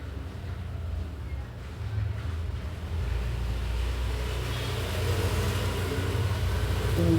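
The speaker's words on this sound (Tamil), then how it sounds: "வண்டி போகிற சவுண்டெல்லாம் கேட்கும்" Road vehicles pass outside a tailoring shop, a low rumbling traffic wash that swells and grows louder toward the end, steady and somewhat distant.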